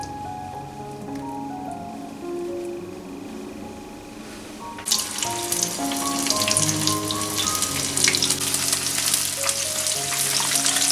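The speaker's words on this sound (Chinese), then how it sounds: "龙虾裹上糊，油温大概烧到180度。" Batter-coated lobster lowered into oil heated to about 180 degrees: quiet at first under a soft tonal hum, then a sudden loud, dense crackling sizzle that continues steadily, close up.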